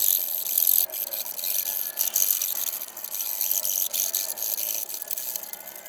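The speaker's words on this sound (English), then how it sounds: "I'd rather cut them off with this flush cut saw because I hate sanding that much." A flush cut saw trimming wooden dowels flush with a surface on a kids' kitchen helper tower build, giving a steady, close rasping scrape that runs continuously with brief breaks between strokes.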